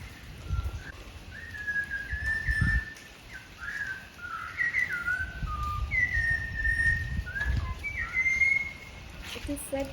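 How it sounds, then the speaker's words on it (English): A whistling thrush sings a series of clear, rising and falling whistled phrases from nearby, over low rumbling background noise, with faint talk underneath. "Did you hear the whistling thrush sing?"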